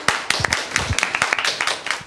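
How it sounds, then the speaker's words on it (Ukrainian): Audience clapping at a televised event, a brief burst of sharp, fairly close hand claps from a small group, with some faint voices mixed in. "Ваши аплодисменты!"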